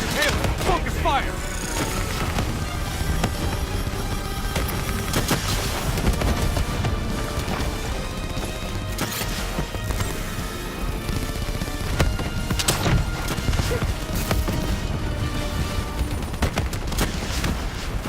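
Sustained gunfire aimed at the Manticore, a heavy combat robot in the shooter Call of Duty: Black Ops 3, crackling as a dense, continuous barrage with thuds and bursts for the full stretch, mixed with battle noise and voices.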